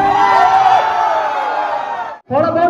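A dense crowd of fans at a YouTuber meetup, a loud, continuous roar of many overlapping voices, whoops and shouts that cuts out briefly before swelling back up, close by.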